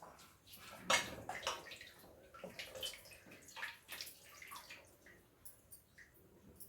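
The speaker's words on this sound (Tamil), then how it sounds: "உருளைக்கிழங்கு நல்லா தண்ணியில் போட்டு நல்லா அலசி எடுத்துக்கோங்க." Potatoes swished and rinsed by hand in a bowl of water in a home kitchen, giving irregular splashing and dripping sounds, fairly faint and close, with no talking.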